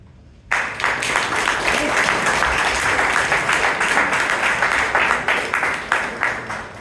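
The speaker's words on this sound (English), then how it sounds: "I think you already clapped for both the speaker as well as for the evaluator" Audience applause at a Toastmasters club meeting in Bangalore, a dense burst of many hands clapping that starts abruptly after a brief quiet moment and holds steady and close throughout.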